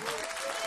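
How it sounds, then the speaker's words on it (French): An audience at a UNICEF charity concert applauds loudly, giving a brief, dense wash of many hands clapping at once. "Encore une belle leçon d'humanité qu'on applaudit très fort."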